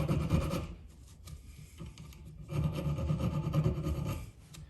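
A file rasps along a steel knife spine to round off a small thorn, with two long, scratchy swipes close by separated by a short pause.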